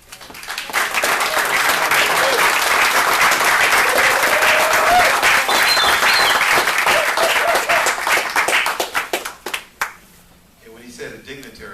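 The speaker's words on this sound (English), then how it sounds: "I want y'all to give a strong round of applause" Strong, sustained applause and clapping from a conference audience fill the room for several seconds, then taper off into scattered claps and a few voices.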